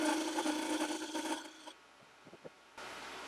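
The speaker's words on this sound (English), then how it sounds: "I have a little beading tool, for easy wood tools" A small beading tool scraping a bead into a wooden spatula turning on a lathe gives a close, dense rasping cut for about a second and a half. It breaks off into quiet with a few light taps, then a steady low hum returns.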